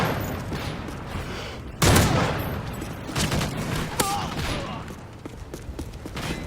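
Gunfire in the Modern Warfare 3 Survival Dome mode, bursts of rapid shots and sharp reports coming in irregular clusters, loud and close, with game effects mixed in.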